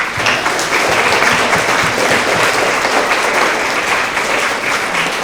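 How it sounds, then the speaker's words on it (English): Applause for award winners at a school assembly: a large indoor audience claps steadily and loudly for several seconds, a dense even patter without a break. "Have another round of applause for all of our social studies winners."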